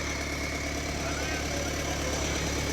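A tractor engine idles with a continuous low rumble and rattling throb, constant in loudness throughout, at a rural tractor trolley-pulling fair.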